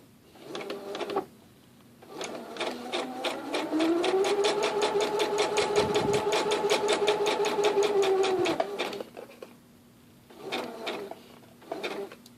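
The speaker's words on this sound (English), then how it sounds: "Then lower the needle. Okay, now let's sew all the way across." An electric sewing machine stitches across quilt blocks in a steady run lasting several seconds, bracketed by short bursts of stitching and pauses while needle and knot are set; close, clear and mechanical with a rapid even rhythm.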